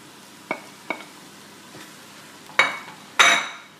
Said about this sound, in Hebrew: ניתן לזה מעט זמן, יעלה לי החום, ואני מתחיל להוסיף את העוף